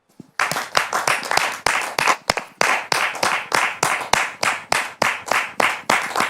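A studio audience claps in a slow, unison rhythmic beat, about sixteen sharp loud claps after a brief quiet start, with no talking.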